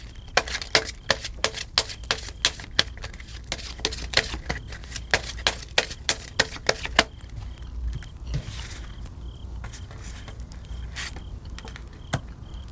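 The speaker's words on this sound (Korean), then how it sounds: "추가 카드 뽑아보고 리딩 마무리하도록 할게요" Tarot cards are drawn and shuffled, giving a fast run of crisp, evenly spaced slaps and flicks close by. The snapping pattern then gives way to softer rustling and sliding of the cards.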